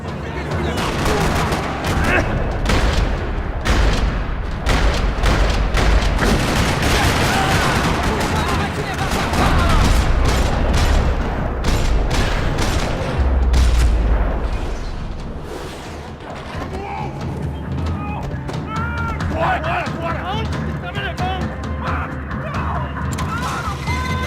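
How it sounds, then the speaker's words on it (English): Rapid bursts of video game gunfire in a parking lot in Max Payne 3 crackle and rattle continuously, with heavy booms and crashes mixed in, loud and dense over the whole stretch. "Another parking lot rattling with gunfire."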